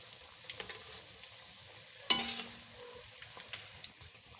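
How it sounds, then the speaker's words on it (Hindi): Vegetable pakoras fry slowly in oil over low heat, giving a faint, steady sizzle with a sharp clink of stirring midway and a few light taps, with no talk. "हमने इनकी आहिस्ता आहिस्ता साइड भी बदलते रहना है ताकि पकोड़े हमारे दोनों साइडों से बन के अच्छी तरह से तैयार हो जाएं"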